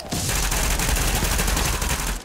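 Suppressed rifle fire in The Division, a dense run of muffled shots packed into a sustained loud burst, with no gaps for the whole stretch.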